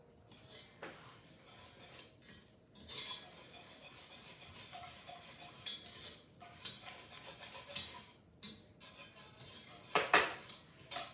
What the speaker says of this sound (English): 4 tablespoons of cocoa. I'm gonna start stirring that around.